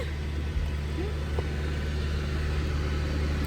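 A car engine holds a steady run at about 2,200 RPM inside the cabin with doors shut and windows down, a constant low rumbling drone with a faint voice briefly over it.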